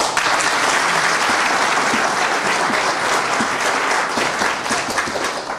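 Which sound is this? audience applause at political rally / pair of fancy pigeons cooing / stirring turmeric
audience applause at political rally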